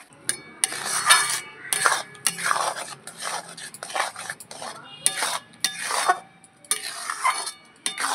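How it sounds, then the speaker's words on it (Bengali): Semolina being stirred with water in a bowl for a mango halwa, a spoon scraping and clinking against the bowl in repeated bursts of busy stirring, close and fairly loud, with no talk. "খুব ভালো করে জলের সাথে আমি সুজিটা মিশিয়ে নেব।"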